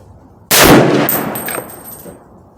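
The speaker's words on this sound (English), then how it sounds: "Third shot at 100 yards." .338 Federal rifle shot fired at 100 yards outdoors: a single loud, sharp blast followed by a ringing, fading echo over about two seconds.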